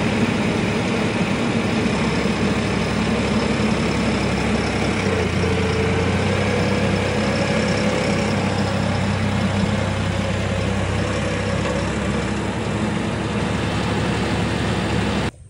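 A tractor engine idles steadily with a low, rumbling drone, unchanging and close throughout.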